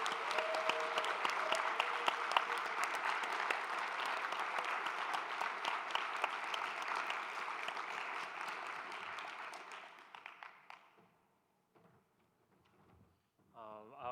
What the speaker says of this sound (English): maybe we could just give a round of applause right now